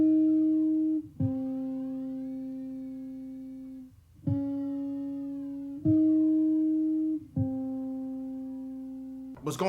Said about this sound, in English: I have a bit crusher effect on there that's making it distort in a very unique way